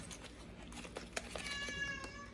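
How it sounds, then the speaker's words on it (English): A cat meows a few times indoors amid a doorbell unboxing, the calls fairly faint over light room noise, with no talk. "oh, there's a cat."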